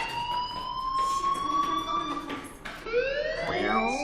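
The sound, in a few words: school fire alarm ringing in the video game Life is Strange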